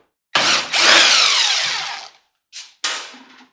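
A power tool whirs loudly up close as it backs security screws out of a microwave casing, one long whining run followed by two short bursts of the motor.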